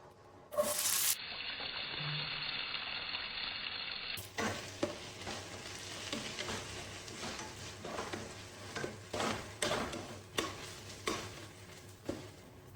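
Onions sautéing in oil with cinnamon, cloves, cardamom and bay leaf for nonbu kanji, a continuous sizzle punctuated by regular spoon scrapes and stirs, close and moderately loud, no voices.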